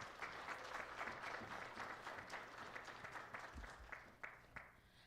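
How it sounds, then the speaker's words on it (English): Sustained applause from an audience at the Speak Up 2022 event at MSUM, dense and steady throughout with a few sharper individual claps standing out near the end, recorded at moderate distance. "Let's give him another round of applause"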